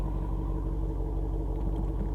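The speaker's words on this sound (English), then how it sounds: "it has that performance exhaust that I obviously have turned on" A 2022 Jeep Wrangler Unlimited Rubicon 392 with its performance exhaust switched on, giving a deep, steady low rumble from inside the vehicle, with no talking.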